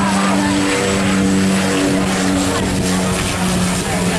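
An airplane landing low and close overhead at Princess Juliana International Airport on St Maarten, its engines a loud, steady roar that fills the whole stretch.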